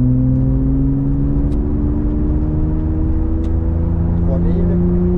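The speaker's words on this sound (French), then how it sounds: "Et j'accélère." A BMW 850 CI with a V12 engine accelerates from inside the cabin, the engine note rising steadily and loud with a smooth climbing whine, a voice speaking briefly over it.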